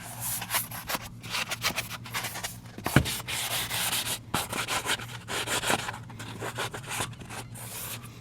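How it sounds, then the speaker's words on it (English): A scratch pad scuffs window trim before painting, producing close, rhythmic rubbing and scraping strokes that continue throughout with varying intensity. "Just take your scratch pad and just kind of, you want to just scuff it up."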